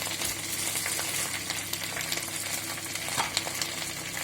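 Spinach cooks in a pan while being stirred, giving a soft continuous sizzle with scattered scraping clicks from the utensil, fairly quiet and without voices.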